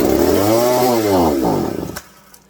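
A McCulloch 610 chainsaw fed starter fluid fires briefly, its two-stroke engine rising and falling in one loud, close burst before dying out after about two seconds.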